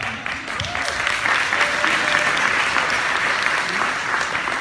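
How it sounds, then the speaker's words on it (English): An audience applauds steadily, a dense wash of clapping that holds at an even level throughout. "you guys just clapped"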